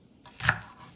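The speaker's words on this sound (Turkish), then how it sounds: "Kerevizi de doğrayıp yapraklarıyla sapıyla birlikte" Celery stalks and leaves being chopped with a knife, a single crisp close cut with a brief burst of crunch and a softer tail, no voices.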